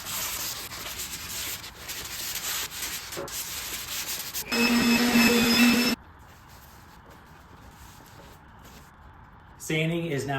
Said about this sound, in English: use some 180 grit sandpaper that's not going to take too much off of the wood